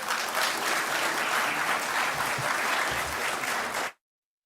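Sustained audience applause fills the hall at a Caribbean Broadcasting Union media awards gala, a dense, steady clapping crowd heard up close before it cuts off abruptly.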